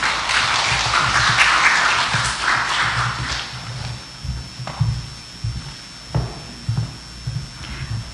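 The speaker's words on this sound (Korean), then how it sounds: "큰 박수로 맞이해 주시기 바랍니다" An indoor audience at a Korean civic launch ceremony applauds to welcome a speaker, a dense burst of clapping that fades out after a few seconds, leaving scattered taps and footsteps.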